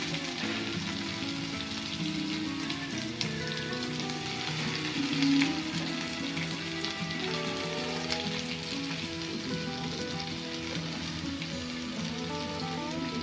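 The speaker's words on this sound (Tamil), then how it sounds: "வெங்காயத்தை போட்டு மேலே கொஞ்சம் உப்பை தூவி நல்லா பெரட்டி மூடி வச்சிடுங்க." Chopped onions sprinkled with salt fry in a pan for tomato thokku, giving a steady, close, dense sizzle that runs unbroken throughout with no talking.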